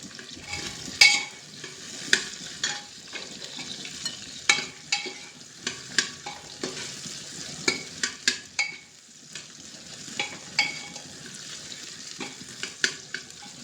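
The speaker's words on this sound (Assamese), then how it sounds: "ব্ৰাউন কালাৰ হোৱাৰ লগে লগে মাংসখিনি এৰি দিম, এৰি দিয়াৰ পিছত অলপখিনি ভাজিম" Goat mutton sizzles and fries in a pan while a utensil stirs it in repeated scraping strokes, the frying hiss steady and close with no voices.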